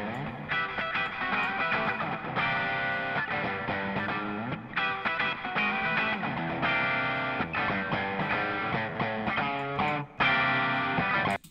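Distorted electric guitar in a mix, processed with reverb set to a long pre-delay that produces a slap-delay echo, playing continuously and loudly with dense sustained chords throughout.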